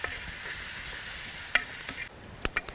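Tempering of mustard seeds, cumin and spices sizzles in a hot pan for a Kathiawadi vagharelo rotlo, with steady frying hiss, stirring scrapes and a few sharp clinks of the spoon against the pan.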